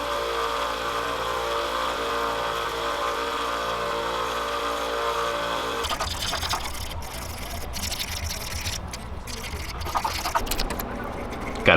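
A power tool scuffs the lips of a handmade wooden crankbait. A steady mechanical whine gives way to rougher, uneven grinding with brief gaps and a sharp bump at the end.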